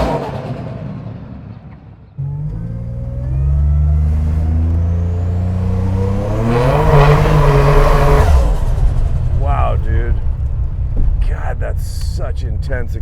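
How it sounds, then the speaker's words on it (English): A 1000 whp Buick Grand National launches hard, its engine roaring loud and close and climbing steadily in pitch through the run. Excited voices speak over it toward the end. "Such intense acceleration."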